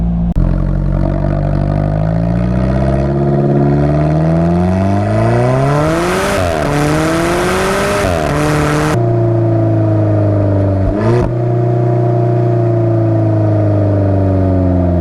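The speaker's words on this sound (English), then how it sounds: "You also get a sport-tuned exhaust, which is a little bit louder" A 2016 Alfa Romeo 4C Spider with a sport-tuned exhaust drones loudly and close up, its engine note sweeping up through revs, then dropping to a steady rumble with a brief blip near the end.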